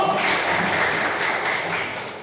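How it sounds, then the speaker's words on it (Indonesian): An audience claps in a classroom teaching session, a continuous wash of many hands that stays fairly even before easing off slightly at the end. "Tepuk tangan dulu."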